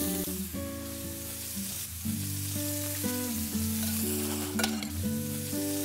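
Scallops sear in a hot pan, giving a steady, close sizzle with light stirring, heard over soft background music.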